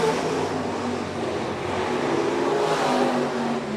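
Hobby stock race cars roar around a speedway lap at a county track, a continuous dense engine drone that swells and fades slightly, moderately distant and steady.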